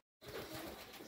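Home-bred rooftop racing pigeon cooing alone after a short silence, a soft continuous murmuring coo held steadily close by for under a second.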